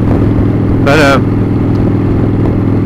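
A carbureted 1997 Harley-Davidson Springer Softail motorcycle engine runs loudly and steadily at close range throughout, with a brief higher-pitched whine rising over it near the start.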